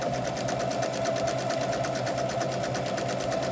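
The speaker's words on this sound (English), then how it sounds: "Okay, chain stitch together." A sewing machine chain-stitches quilt blocks for a table topper, running at a steady, rapid rhythmic whir with a constant motor hum throughout, close and alone with no talk.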